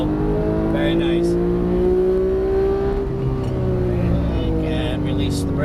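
A Porsche 991 GT3 accelerates on a race track, its engine note a loud steady drone that slowly rises in pitch, while an instructor talks over it.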